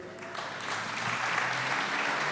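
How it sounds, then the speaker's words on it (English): Applause from the audience at a 2021 State of the City address, a steady, dense clapping that swells slightly and carries on evenly throughout, with no voices over it. "thank Executive Hackle coming in with the applause there"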